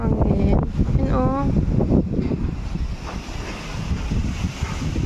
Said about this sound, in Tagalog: Diba ang lakas yung hangin?